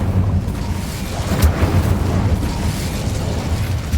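Incendio fire spell cast in the Hogwarts Legacy video game, a loud, sustained roaring burst of flame with rumbling low end and no letup across the whole stretch.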